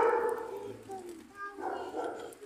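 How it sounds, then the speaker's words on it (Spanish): A big dog barks somewhere out in a park during a walk, a few muffled, fairly distant woofs heard alongside nearby talk. "suena como perrito grande"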